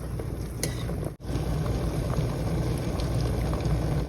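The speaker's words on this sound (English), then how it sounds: "They are now boiling over medium heat" Steady bubbling and hissing from a pot of potato slices boiling over medium heat, a continuous broadband wash with a brief dropout near the start, no voices.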